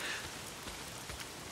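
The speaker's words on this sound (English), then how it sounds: "If it's not the freaks, it's the goddamn rain." Steady rain falls in the Days Gone video game, a dense even patter of drops on surfaces, continuous and moderately loud with no voices.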